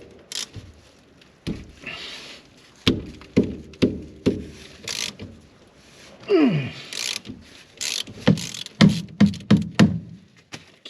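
A wrench loosening a tight oil filler plug on a vehicle, heard close up as a series of sharp metallic clicks, knocks and creaks in irregular bursts, with a squeak partway through and quiet gaps between efforts.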